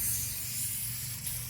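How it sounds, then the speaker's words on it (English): Motor Coat all-purpose spray misted from a can onto a vehicle's window seals, a continuous close, bright hiss that holds steady throughout. "just spray up and down these seals right here."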